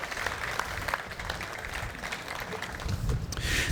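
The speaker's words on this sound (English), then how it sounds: "Let's give them a big round of applause," Steady audience applause at an airport ceremony unveiling a new ticketing lobby and checked baggage area, dense and continuous, swelling slightly toward the end.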